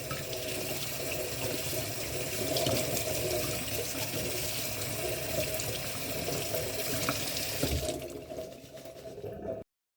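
Ingredients for homemade natural gummy candy are rinsed under a running kitchen tap, a steady, loud rush of water splashing continuously before it abruptly cuts off near the end.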